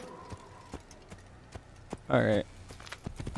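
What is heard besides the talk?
horse hooves clip-clopping in video game Assassin's Creed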